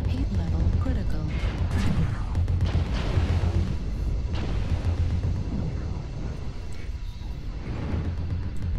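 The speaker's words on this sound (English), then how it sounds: "Artillery strike activated." An artillery strike pounds the battlefield in MechWarrior Online, a sustained loud rumble of booming impacts and roaring noise with brief sharper crashes throughout.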